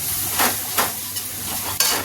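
Steady sizzling of masala in a hot pan, with a few soft stirring scrapes on top, close and continuous.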